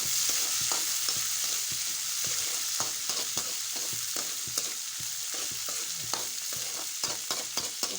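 Onions and spring onions fry steadily in hot oil with a constant, close hiss, while a spoon scrapes and taps against the pan again and again throughout.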